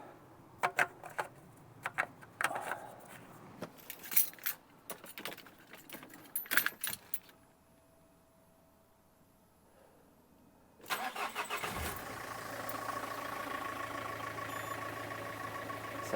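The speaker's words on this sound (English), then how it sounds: "Okay, let's start the car" Keys jangle and a few clicks come first, then after a pause a Peugeot 406 Executive car engine cranks and catches, settling into a steady, fairly close idle after a fresh oil fill.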